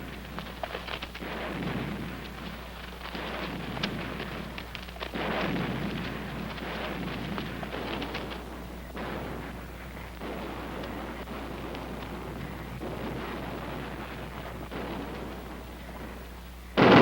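Distant naval artillery from a battleship rolls like thunder through a long, continuous rumble with repeated dull booms across seventeen seconds. The sound stays muffled and far away, and nobody speaks.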